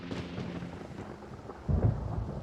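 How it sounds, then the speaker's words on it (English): Rumbling thunder rolls through a rainstorm in the Genshin Impact video game, a steady low roar with rain hiss that swells into a heavier crack near the end. "Paimon hears thunder!"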